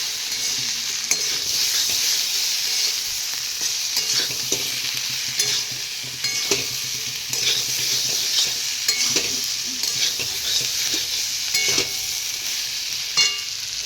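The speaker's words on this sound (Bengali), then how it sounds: "এরপরে দিয়ে দেবো জিরে লঙ্কা বাটা দিয়ে ভালো করে কষিয়ে নেব" Cumin and chili paste fries in hot oil for a Bengali baan fish curry, a constant loud sizzle broken by repeated scraping stirs of a spoon against the pan, with no voices.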